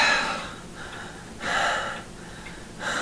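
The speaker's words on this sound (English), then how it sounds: "Oh yeah, heavy breathing, baby." Heavy, exaggerated breathing from a single person, loud and close, in three strong breathy bursts with quieter gaps between, no other talk.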